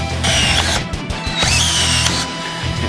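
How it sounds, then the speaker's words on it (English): A power drill runs loudly and almost without pause, its whine shifting in pitch as it works, heard up close with no talk over it. "Hit with the drill. Away you go."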